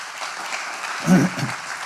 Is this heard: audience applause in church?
yes